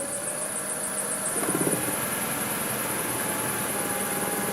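A wood lathe turning a live-edge drift boat bowl runs at raised speed around 1100 RPM, giving a steady high-pitched whine and continuous motor hum with a brief rattle partway through.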